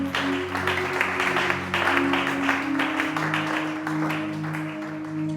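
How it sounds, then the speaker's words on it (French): A church congregation cheers and applauds for the Lord, a steady wash of clapping and voices over sustained organ or keyboard tones, loud and continuous. "Quelqu'un acclame pour le Seigneur."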